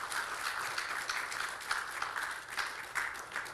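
Warm, sustained applause fills a gathering in Ghana honoring the May 9th Foundation after the stadium disaster, a steady wash of many hands clapping without a break, with faint voices beneath.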